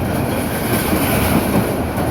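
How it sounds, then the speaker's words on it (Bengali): The Karnaphuli Commuter passenger train from Chittagong rumbles past near Karwan Bazar in Dhaka, a loud, close, steady roar of wheels and carriages. "কর্ণফুলী কমিউটার, যেটি চট্টগ্রাম থেকে ছেড়ে আসছে ঢাকা অভিমুখী।"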